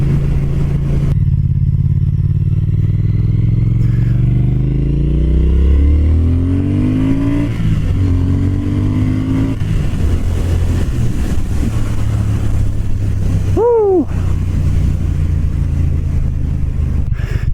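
A Triumph Speed Twin motorcycle engine revs up, its rising drone climbing steadily as the bike accelerates, loud and close against steady wind rush, with a short sharp squeal near the end.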